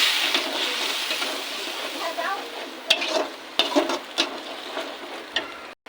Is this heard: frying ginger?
yes